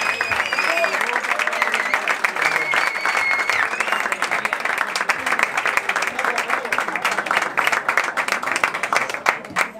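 Concert audience applauding in dense, sustained clapping with crowd noise, while a voice and brief whoops sound over it throughout.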